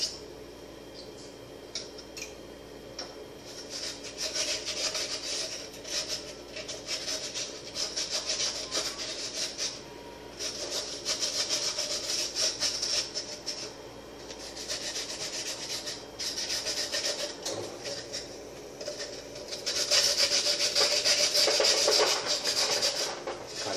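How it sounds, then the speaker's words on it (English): Sandpaper rubs steadily back and forth across the cut edge of a broken glass beer bottle, a continuous gritty scraping that stays close and fairly loud for the whole stretch, with no talking. "with the help of sandpaper, you can just get around where to make it even around and so it's not sharp"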